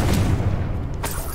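A Confringo explosion spell in a video game lands as a deep, muffled boom with a rumbling low end, followed about a second later by a sharper burst.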